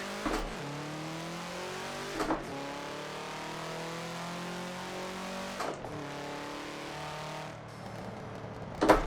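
Engine of a manual-transmission car in the Forza racing game, revving up after a stall as the clutch goes back in and throttle is added, with a steady drone and brief surges in pitch.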